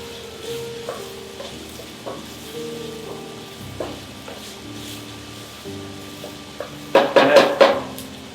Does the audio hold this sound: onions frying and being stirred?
yes